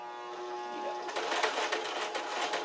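A sewing machine stitches fabric for a pair of shorts, starting after a quiet second with a steady, close mechanical whir and rapid needle clatter that runs to the end.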